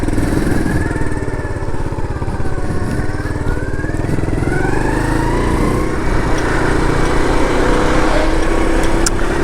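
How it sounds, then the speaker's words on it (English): A small SYM Symba 100cc step-through motorcycle engine, a Honda Cub C90 replica, drones steadily throughout, a buzzy high-revving putter close by, with wind rush and no voices. "This little 100cc step-through motorcycle will get you up to 60 mile an hour."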